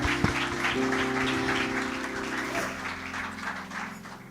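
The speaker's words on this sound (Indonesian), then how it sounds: "Tepuk tangan buat Tuhan." A church congregation claps together during an online worship service, a moderate wash of applause over a sustained musical keyboard tone that shifts pitch partway through.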